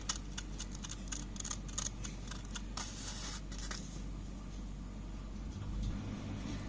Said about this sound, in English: Perfect circle, we have to cut it.